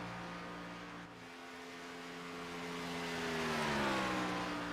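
A NASCAR stock car on a qualifying lap at Las Vegas roars past with a steady, high-revving V8 drone that shifts pitch smoothly as it passes, loud and continuous with no voices.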